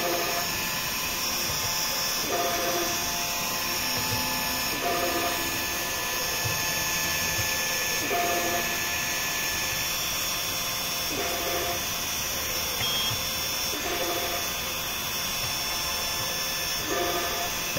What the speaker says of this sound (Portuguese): E ela vai começar a fazer os furos nos pontos indicados aí.